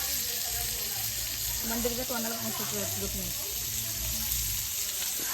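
Food frying and steaming in a pan gives a loud, steady sizzling hiss throughout, with a brief voice rising over it partway through.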